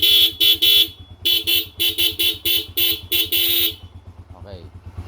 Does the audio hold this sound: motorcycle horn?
yes